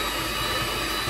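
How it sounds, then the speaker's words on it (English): An electric whisk creams a trifle sponge mixture in a bowl, making a dense, loud, steady whirring roar with a faint motor whine for about a second. "So I'm just going to whisk this together until it's all creamed in"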